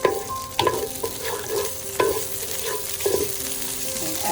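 Olive oil heats in a pan for a spaghetti-and-meatballs sauce, giving a steady low sizzle with a few sharp clinks and stirring scrapes spaced through it, close and moderately loud, no talking.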